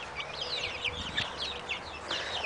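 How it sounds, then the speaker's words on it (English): Backyard chickens, including a large golden sex-link hen feeding, cluck and chatter softly and continuously in a busy, overlapping flock. "There's the big chicken, the big golden sexlink chicken eating food."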